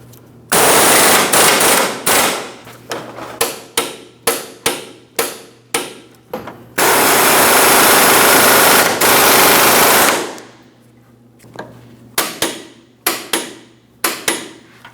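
Impact wrench snugging control arm mounting bolts on a 2015-2025 Ford Transit 250 front suspension: loud sustained rattling bursts alternate with a run of sharp rapid hammering hits, close by, no talk.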